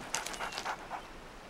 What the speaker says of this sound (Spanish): Mire, un perro.